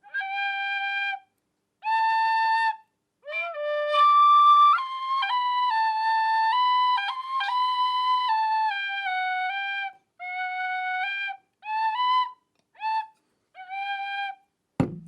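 A tin whistle plays a slow, lyrical melody of clear sustained notes with short gaps between phrases, loud and close, with no voices over it.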